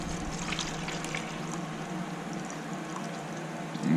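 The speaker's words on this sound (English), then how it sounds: "pour this in here without spilling any" Transmission fluid pours into the fill opening of a 2015 Toyota RAV4, a steady soft trickle and gurgle of liquid running continuously at close range, with a slight knock at the end.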